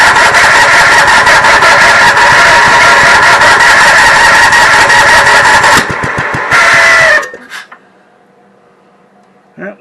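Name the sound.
Cushman golf cart engine starting and running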